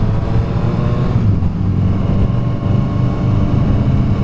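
Several Triumph roadster motorcycles pull away together, a steady loud engine drone with rising revs holding close and continuous throughout.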